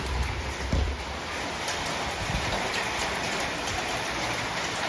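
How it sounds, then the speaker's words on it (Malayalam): Steady rain pours down without a break, a dense even hiss of drops hitting surfaces nearby, with a faint low rumble underneath. "വീണ്ടും മഴ കേട്ടോ ഈ മഴേനെ കൊണ്ട്"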